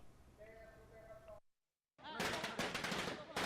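Rapid cracking bursts of firecrackers pop densely in the streets of Trichy, celebrating Rajinikanth's political entry, after a brief silence, following a stretch of background noise and tonal sound.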